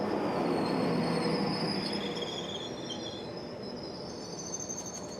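A GW 800 series train runs at Tenby railway station, its broadband rumble loud at first and gradually easing, with thin high wheel squeals and ringing tones overhead, no voices.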